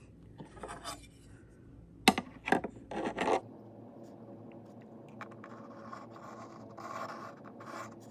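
A pencil lightly marks the wooden body of a laser-cut box guitar, giving a few quick, soft scratching strokes close by over a quiet room background.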